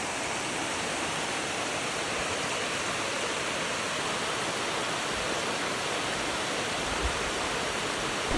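Steady broadband rush of a river running alongside a mountain bike route, continuous and fairly close, with no voices and only a faint knock near the end.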